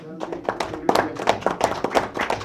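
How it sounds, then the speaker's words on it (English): Several people at a school district board meeting clap in a small, uneven burst of applause while a voice speaks over it. "I just want to give them a round of applause"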